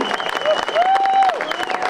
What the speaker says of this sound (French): Vous pouvez applaudir bruyamment et longuement.